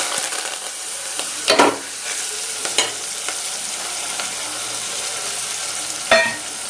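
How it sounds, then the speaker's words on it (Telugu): Onions and curry leaves fry in hot oil with a steady, close sizzle, punctuated by a few sharp clacks of a spoon stirring the pan. "అందులో ఇప్పుడు ఆనియన్స్ అండ్ కరివేపాకు వేసాను"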